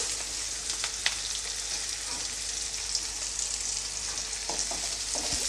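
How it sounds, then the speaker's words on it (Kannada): Onions fry in a pan until changing colour, with a steady, hissing sizzle and occasional faint clicks of stirring, no voices. "ಇವಾಗ ಈರುಳ್ಳಿನ ಒಂದು ಮೂರು ನಿಮಿಷ ಸ್ವಲ್ಪ ಕಲರ್ ಚೇಂಜ್ ಆಗೋವರೆಗೂ ಫ್ರೈ ಮಾಡ್ಕೊಳ್ತೀನಿ"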